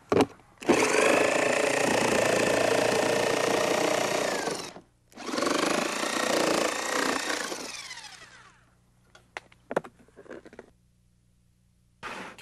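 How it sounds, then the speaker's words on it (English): A jigsaw cuts a hole in a plastic rain barrel lid in two loud, buzzing bursts of about four and three seconds, followed by a few scattered knocks and clicks as the work is handled. "I'm going to use a jigsaw to cut the hole"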